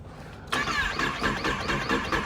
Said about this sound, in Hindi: बाइक स्टार्ट करते हैं, कोल्ड स्टार्ट